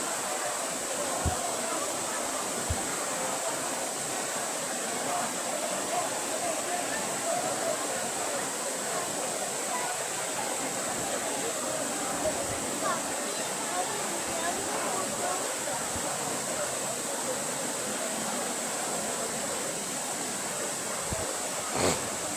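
A waterfall at the Five Falls bathing place, heard as a loud, continuous broadband rush of falling water throughout, with people talking over it.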